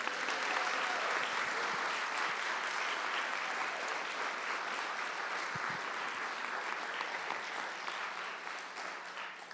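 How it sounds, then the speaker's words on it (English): Steady audience applause at a school board of trustees meeting honoring a departing student board member, a broad wash of clapping that fades slightly toward the end. "she deserves a round of applause just for that"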